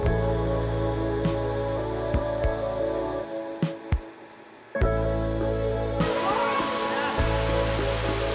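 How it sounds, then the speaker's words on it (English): Waterfall on Nuku Hiva, a broad rushing roar of falling water heard close, steady but broken by brief knocks and a short dip before the roar returns louder. "The waterfall wasn't spectacular"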